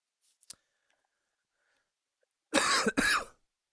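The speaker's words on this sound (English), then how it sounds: "first cough of the video" Two quick coughs, close and sharp, follow near-silence broken only by a couple of faint clicks.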